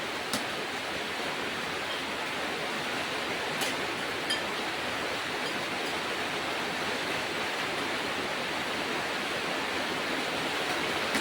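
Heavy rain pours steadily during a rainy midday, a dense, even hiss of falling water that holds at the same level throughout, with no voices over it.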